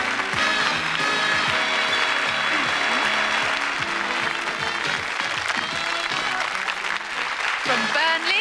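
A studio audience applauds steadily to welcome contestants on the 3-2-1 game show, a loud, even wash of clapping that lasts throughout, while a voice speaks over it.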